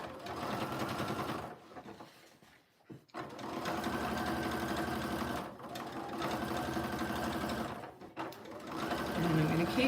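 A sewing machine topstitches a seam on a denim jeans pocket in several steady bursts with short pauses between, close up, while a person talks over it.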